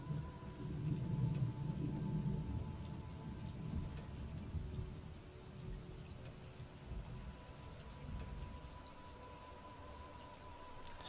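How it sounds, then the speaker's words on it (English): Steady rain falls in a stormy outdoor area of Elder Scrolls Online, a soft continuous hiss over low thunder-like rumble that is strongest early on, then fades to a quieter patter. "I'm in a place that's raining a lot"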